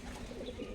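Pigeons at a pigeon farm coo softly in a brief, close burst, low throaty calls rising and falling over a faint background.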